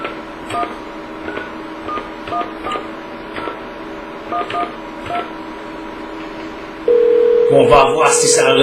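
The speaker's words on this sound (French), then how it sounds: "je vais peser sur le bouton là maintenant pour faire marcher le téléphone" A telephone emits a series of evenly spaced dialing tones as a call is placed, followed by a steady ringing tone near the end; loud and close.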